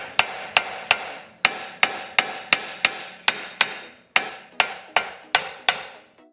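A rubber hammer tapping a corroded rear ABS sensor on a Dodge Journey / Fiat Freemont, about sixteen sharp, ringing knocks at an uneven steady pace, loud and close with no talking.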